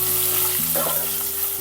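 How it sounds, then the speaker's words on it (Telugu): Curry leaves, torn coriander and spices stirred through hot tempering oil in a frying pan for drumstick dal rasam, a steady close sizzle with a brief scraping stir midway and no talk. "వీటన్నింటిని ఒకసారి కలుపుకుంటానండి."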